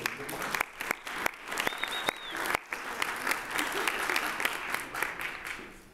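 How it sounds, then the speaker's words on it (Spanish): An audience at a book fair panel applauds a guest with sustained clapping, sharp individual claps standing out from the steady crowd noise, and a voice briefly heard through it. "Por favor, un gran aplauso para él."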